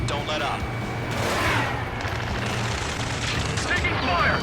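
Gunfire in Ace Combat 7: Skies Unknown rattles through a dense wash of battle noise, with steady bursts and rumbling engines under it, moderately loud and continuous throughout.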